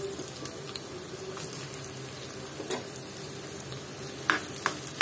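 Chopped onion frying lightly in hot mustard oil in a pan, a soft steady sizzle with occasional stirring scrapes and clicks, fairly quiet and close.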